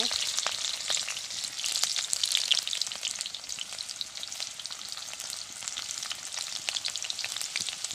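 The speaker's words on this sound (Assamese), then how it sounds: "তেল গৰম হৈ গ'ল। এতিয়া মই দি দিছোঁ পিঁয়াজ।" Onions frying in hot oil for a jackfruit dish, giving a dense, continuous crackling sizzle with busy popping and spitting throughout and no talk.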